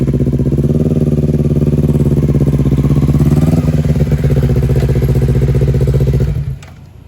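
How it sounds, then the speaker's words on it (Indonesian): A motorcycle engine roars loudly with a throaty, rumbling exhaust, revving briefly midway before cutting off near the end. "neangan motor nu knalpotna ngegerung"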